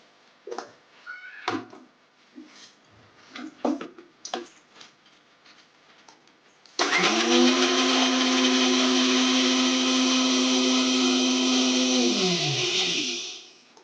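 A few soft clicks and knocks come first, then a kitchen mixer grinder roars on loudly, coarsely grinding coconut for about seven seconds with a steady high whirring drone before it cuts off.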